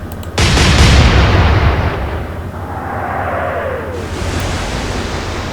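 Naval guns fire in the Atlantic Fleet video game: one loud, close booming blast, then a long rumbling tail, a faint descending whistle of shells in flight, and distant impacts, with no talking.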